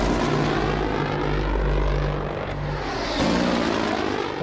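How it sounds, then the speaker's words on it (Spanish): Little Bird helicopters arrive in a loud, continuous rotor and engine drone that builds slightly toward the end, heard alone with no talking. "llegaron helicópteros Little Bird."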